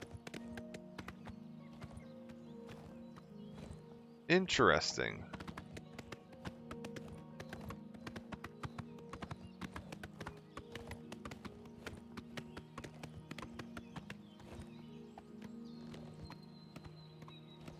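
Steady clip-clop of horse hooves at a walking pace in the video game Oblivion Remastered, with a brief whinny-like burst early on and a few words spoken quietly.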